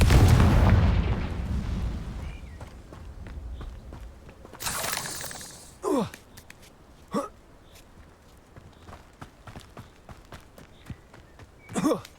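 Fiery Confringo spell blasts from the Hogwarts Legacy video game, several separate booming bursts at uneven gaps after a loud rumbling opening, punchy and close, with no speech.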